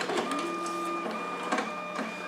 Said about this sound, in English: The printer will take the card and begin the cleaning process.